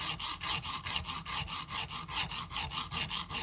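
Sharpening a broken knife blade tip makes rhythmic back-and-forth scraping strokes against a stone, about four strokes per second, close and steady with no talk.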